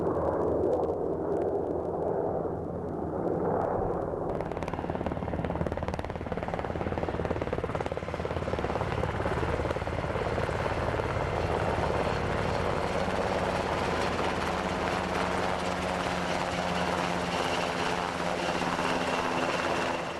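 Military helicopter flying over rugged mountain terrain near the Afghan-Pakistan border, its rotor and engine roar loud and steady throughout, with a continuous droning wash of noise and no voices.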